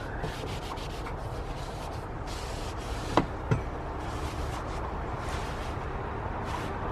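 Garden rake rubbed clean with tissue, making a steady close scratchy rubbing with two sharp knocks midway, no voices.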